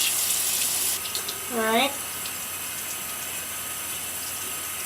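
Room-temperature water runs steadily from a tap while a makeup brush is rinsed under it. A brief gurgle cuts in partway through, and one short spoken word sits over the water.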